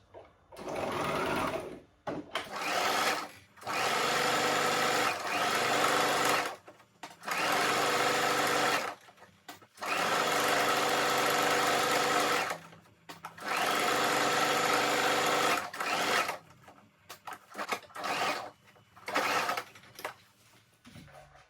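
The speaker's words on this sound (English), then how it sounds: "you take your fabric to your sewing machine and stitch from this end to this end" A sewing machine stitching satin fabric runs in several bursts of rapid stitching, each a few seconds long, with brief pauses between and a choppy flurry of short runs near the end.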